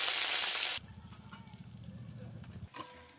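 Fish dropped into hot oil in a pan with taro, turmeric and salt gives a loud, harsh burst of sizzling at the start. It then settles into a steady, softer frying crackle that continues under background sounds.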